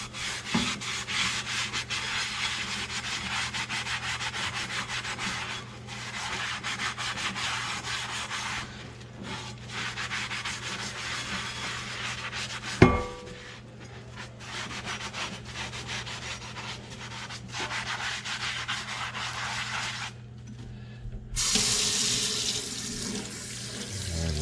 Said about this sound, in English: So we'll get this good and washed up, and use a sponge.